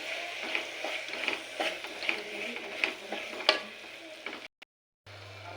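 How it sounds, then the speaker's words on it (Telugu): Ginger garlic paste fries in a pan for mutton curry and is stirred, giving a steady close sizzle broken by rhythmic scraping strokes, with a brief drop to silence near the end. "అల్లం వెల్లుల్లి పేస్ట్ కూడా ఫ్రై అయిపోయింది"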